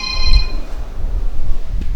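A mobile phone rings with a bright electronic tone at the start, then fades under low background rumble and room noise.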